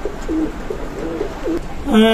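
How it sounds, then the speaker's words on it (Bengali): Dabla pigeons coo repeatedly in a pigeon loft, close and clear, with soft rolling calls repeating through the moment and a louder coo at the end. "এক জোড়া আছে ডাবলা কবুতর দেখেন"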